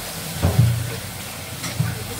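Spice paste is sautéed in a pan for a home-cooked vegetable dish, giving a soft, steady sizzle with a couple of brief stirring scrapes over about two seconds.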